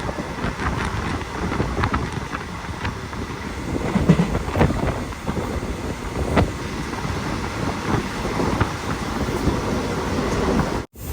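The Mangaluru Express runs into Cheruvathur railway station in Kerala, heard from a sleeper-class coach as a steady, loud rumble of wheels and carriage noise with wind buffeting, continuous throughout and cutting off abruptly at the end.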